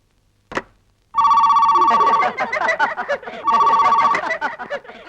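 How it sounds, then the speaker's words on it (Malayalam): A telephone rings in two bursts of an electronic tone while people talk over it in a Malayalam film scene, after a sharp click at the start. "അലക്സേ, കൊറേ നേരം ആയല്ലോടാ ഈ ഫോൺ വിളി തുടങ്ങിയിട്ട്."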